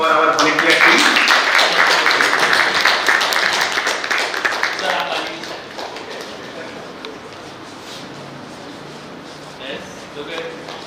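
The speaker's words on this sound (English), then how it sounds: "a big round of applause for our volunteer team" An audience at a national conclave on sustainable energy gives the volunteer team a round of applause, with brisk, crisp clapping that starts strong, then thins out and fades after about five seconds into quieter room sound.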